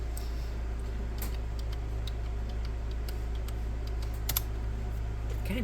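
Light typing on a computer keyboard, a scattering of soft, close key clicks at an uneven pace over a constant low hum, with no voices.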